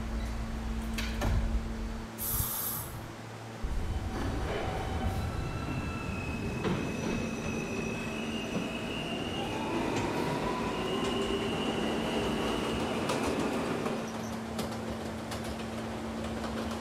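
A Roblox R160A subway train on the F local runs steadily, with a continuous loud rumble of wheels on rail, rising and falling whines and squeals, and brief clicks along the track, without any talking.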